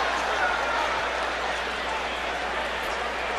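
A boxing arena crowd cheers and applauds Zab Judah between rounds, a steady dense roar of clapping and voices that holds at an even level throughout.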